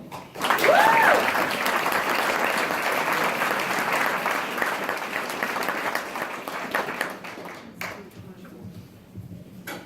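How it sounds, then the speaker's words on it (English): Applause from the audience at a Democratic candidates forum in Niles, Michigan, dense continuous clapping that starts loud and slowly fades over nearly ten seconds, with a brief tonal chime early on. "Thank you for the round of applause."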